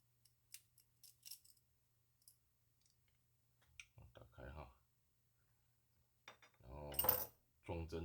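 Small plastic and metal parts of an airsoft M4 fire control housing click and clatter in sparse, close taps while it is taken apart, with short bursts of speech toward the end.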